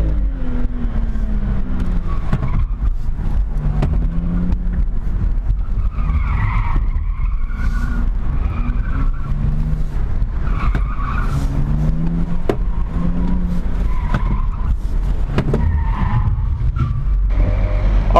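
Car tires squeal and skid repeatedly through an autocross course, with wavering screeches rising and falling over a steady engine drone, loud and close for the whole run.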